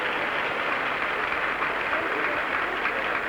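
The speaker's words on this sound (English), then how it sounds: "getting the first real applause from the French crowd" A French crowd at the 1972 Great Britain versus New Zealand rugby league World Cup match applauds, a dense, steady wash of distant clapping from the stands lasting a few seconds with no voices over it.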